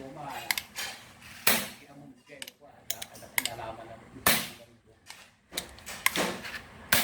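Sharp metallic taps and clicks in irregular bursts as a valve is tapped to seat it during a leak repair, several sharp knocks spaced unevenly, fairly close, with quieter rattling between them.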